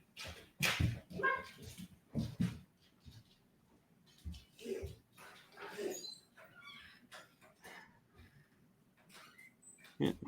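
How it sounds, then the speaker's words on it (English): A dog whimpers and gives several short barks and yips indoors, the sounds coming in scattered bursts between quieter gaps, fairly close. "Get my dog outside really fast."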